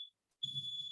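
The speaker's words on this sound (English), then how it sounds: "Our smoke detector just went off." A smoke detector sounds indoors with a shrill high-pitched electronic beep, a short chirp followed by a sustained tone, faint and with a low hum beneath it.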